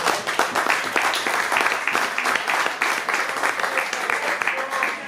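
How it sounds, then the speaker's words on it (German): Applause at a football press conference after a TSV 1860 München match, steady dense clapping from a room of people lasting several seconds, with no speech over it. "Das ist sicherlich ein Applaus wert."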